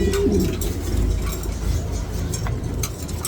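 A captured pigeon gives a brief low coo at the very start, then falls quiet under a steady low rumble of background noise.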